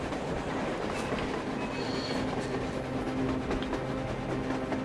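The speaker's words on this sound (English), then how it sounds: "A train! A damn train on the surface!" A train rolls along surface rails in the game Metro Exodus, a continuous heavy rumble with faint metallic squeals and wheel clatter, steady and fairly loud throughout.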